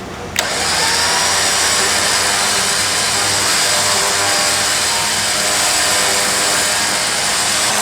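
A Zeon electric winch on a Rubicon JL spools in cable under tension, a steady loud motor whine that starts abruptly and holds constant throughout.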